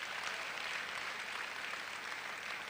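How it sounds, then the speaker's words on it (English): Steady audience applause fills a hall at an EKO Hotels & Suites summit in Lagos, a dense continuous patter of many hands with no voices rising above it. "I think EKO Hotel deserves another bigger round of applause."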